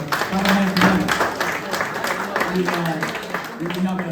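An audience at a big band jazz show at Roscoe's Jazz Lounge claps for new band members, a steady patter of many hands filling the room while a voice talks over the applause.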